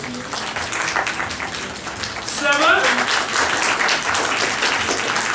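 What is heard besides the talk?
audience clapping at graded loudness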